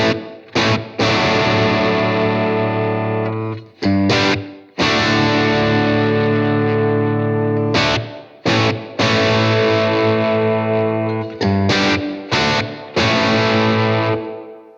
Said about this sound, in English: I've got it set to the room reverb.